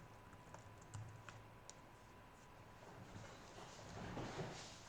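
Fingers type steadily on a computer keyboard while JavaScript code is written, giving faint, close, irregular key clicks over a soft background hiss.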